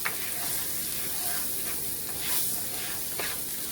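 Rice frying in a pan with chopped onions, a steady close sizzle with occasional stirring scrapes and hissy bursts, alone without talk.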